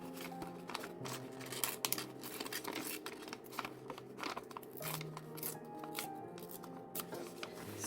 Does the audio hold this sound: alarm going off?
no